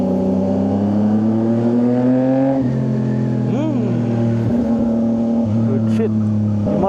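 CFMoto 675 NK naked motorcycle engine droning steadily while riding, with a brief rising rev in the middle and someone talking over it; the engine tone stays continuous and fairly loud throughout.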